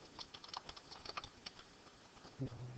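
Quick, light clicking of keys on a computer keyboard, an uneven close patter of individual taps followed by a slightly louder keystroke, quiet and without talking.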